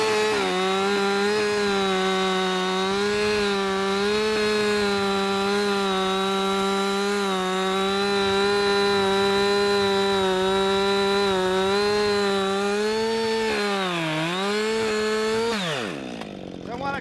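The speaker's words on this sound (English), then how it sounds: "Now that the saw is into the wood, it will not turn on me." A chainsaw bites into a standing tree's face to cut the hinge notch, its engine holding a loud, steady, high-pitched whine close by for the whole stretch, dipping briefly before winding down at the end.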